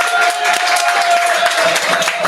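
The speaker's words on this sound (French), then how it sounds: "Bonsoir le public, applaudissements à tout le public du Vidam ce soir" A large audience at the Vidam gives steady, dense applause throughout, with a faint sustained tone beneath the clapping.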